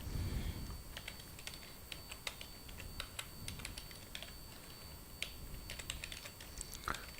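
Rapid, uneven keystrokes on a computer keyboard as a comment is written, crisp clicks in quick bursts with small pauses, close and fairly quiet, no talking.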